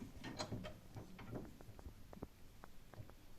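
A shutter crank rod is being tightened in a metal vise, giving a run of small, close mechanical clicks and ratcheting ticks that start busy and then thin out into sparse, isolated taps.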